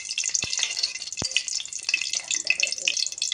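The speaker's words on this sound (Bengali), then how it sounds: "তেলের মধ্যে একটু তেজপাতা দিয়ে নিলাম," Bay leaves frying in hot oil as a Bengali lau chingri (bottle gourd with prawns) is started, a steady bright sizzle with a couple of sharp spatula knocks against the pan, close and continuous with no talking.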